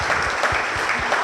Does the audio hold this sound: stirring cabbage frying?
no